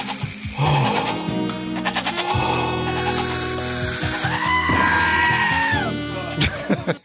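Screaming goat sound effect played on a podcast, a loud drawn-out bleating cry that rises into a shrill wail, over music and background voices.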